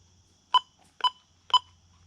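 A Mighty Mule FM136 wireless intercom keypad gives three short electronic beeps, evenly spaced about half a second apart, bright and clear against a faint low hum, after batteries are inserted.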